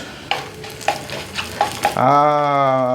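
Cumin seeds hit hot ghee for Tamil Nadu sambar with a few sharp clinks and stirring taps, then break into a loud, sustained sizzle close by.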